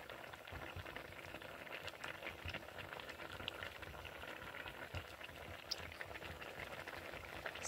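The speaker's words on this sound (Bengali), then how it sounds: "তো চলো এখন থেকে এটা সিদ্ধ হোক" Potatoes and daliya boil in a pot, giving a steady, dense bubbling and hissing patter that carries on evenly throughout with no voices.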